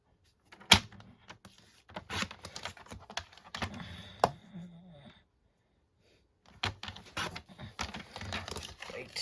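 Paper for a craft treat purse being trimmed on a cutter, giving a string of short dry scraping and clicking strokes up close, with a pause midway before the cutting resumes.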